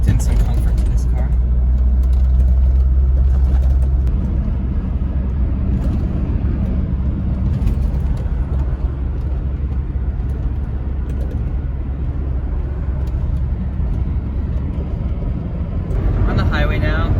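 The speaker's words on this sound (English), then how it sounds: "I just wanted to give you guys a sample of what it's like to drive the 240 on the highway" A Volvo 240 cruising on the highway at about 70 mph, its steady engine drone, road roar and wind noise filling the cabin continuously and loud, with someone talking over it.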